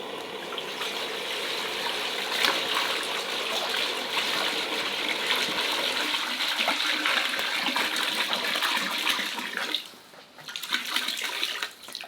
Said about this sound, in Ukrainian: І в казан наливаємо воду.